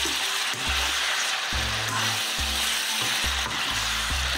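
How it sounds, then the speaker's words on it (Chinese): Chicken pieces stir-fry in hot oil with melted rock sugar, a loud, steady sizzle broken by rhythmic scraping and clanking of a spatula against the wok every second or so. "我们放入鸡块，不断翻炒至鸡块上色"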